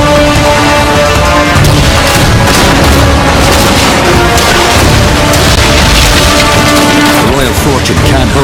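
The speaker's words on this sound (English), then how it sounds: "Its special ability delivers 8 shots in a single blast, increasing the odds for a critical hit." Ship cannon firing an eight-shot blast in a naval video game, as dense, continuous loud booming and crashing explosions layered with music and effects throughout.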